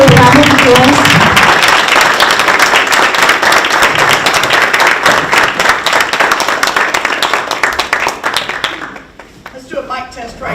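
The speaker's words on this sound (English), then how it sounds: "So can you give her a round of applause?" A Toastmasters contest audience gives sustained, loud applause for a speaker, with dense clapping that fades out near the end, leaving a few scattered claps and some voices.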